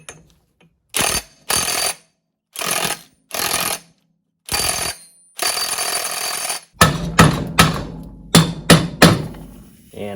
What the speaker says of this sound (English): back to the impact, and we'll loosen and tighten and try to get that carrier to move